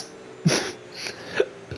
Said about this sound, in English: Look at me getting hiccups just before a fucking start race.